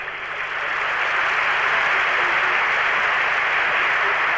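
Audience applause at the 1979 Eurovision Song Contest in Jerusalem, greeting the orchestra and conductor; dense, steady clapping that swells within the first half second and holds loud throughout.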